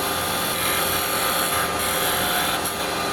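A carbide cutter works a small wooden bowl on a lathe, giving a continuous, close, loud scraping and rasping hiss with a steady mechanical drone beneath, unbroken throughout and without voices.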